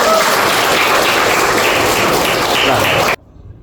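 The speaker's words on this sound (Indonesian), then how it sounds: "Terima kasih, tepuk tangan" Loud applause from a group fills the room, then cuts off abruptly near the end.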